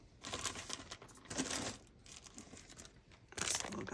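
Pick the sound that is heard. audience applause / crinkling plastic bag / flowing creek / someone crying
crinkling plastic bag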